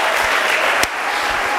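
Congregation at the Mission Parole Éternelle church applauding Pastor Roch Kayembe, a steady wash of clapping from a large crowd with one sharp louder clap near the middle, no talking.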